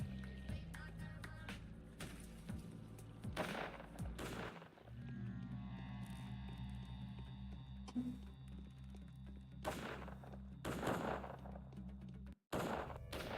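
Soldiers shooting in the video game Pathologic Classic HD, bursts of distant gunfire that return every few seconds over a low, droning game soundtrack.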